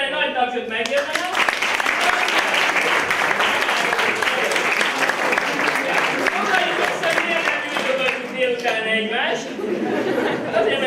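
High school audience applauding after a chemistry demonstration, a lively burst of clapping from a crowd with some chatter and chuckles mixed in, sustained for several seconds.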